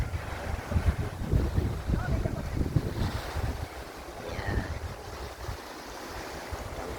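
Gusty wind buffets the microphone over the wash of surf on a beach at a resort, a loud low rumble that swells and eases, with what sounds like a voice faintly mixed in.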